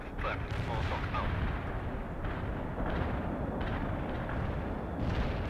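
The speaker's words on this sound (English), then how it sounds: "Artillery strike complete." Artillery strike in the World in Conflict video game: a dense, continuous rumble of heavy explosions and blasts, loud and sustained throughout, with a faint voice coming through the barrage.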